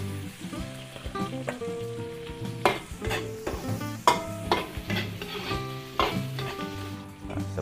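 Onion hits hot oil in a pan and fries with a continuous sizzle. Repeated stirring clinks and scrapes break through it, all close, with faint music in the background.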